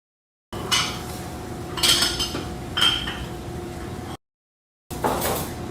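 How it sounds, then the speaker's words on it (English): Dishes and cutlery clink and clatter in several bursts during an ADR recording session, with brief gaps of silence between, over a low steady hum of room noise. "this has a lot of good dishes sound"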